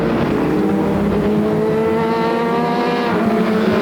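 Pro 4 Modified race cars roar around the oval at Flamboro Speedway, a loud steady wall of engine drone with shifting tones as the field passes close.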